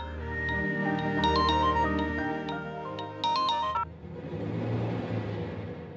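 A mobile phone rings with a bright electronic ringtone melody of repeated chiming notes for about four seconds, then stops, leaving only a low background hum.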